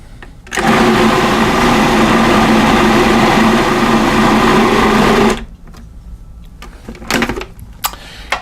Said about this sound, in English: I'm overloading my my food processor